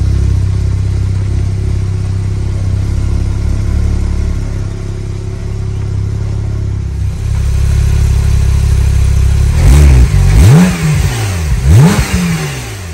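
Porsche 911 Turbo S with 600 hp idling loudly before it revs sharply twice, pitch sweeping up and back down, close by with no talk.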